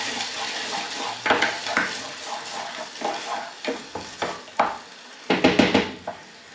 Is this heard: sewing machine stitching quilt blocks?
no